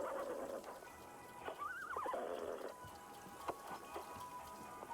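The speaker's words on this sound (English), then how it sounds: "let's not deal with the horse noises" A horse in the video game Wander Stop gives one clear rising-and-falling whinny about two seconds long, set against a soft, steady patter of rain and a few faint clicks.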